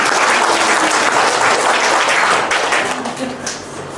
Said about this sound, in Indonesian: Tepuk tangan dong untuk Mbak Nur.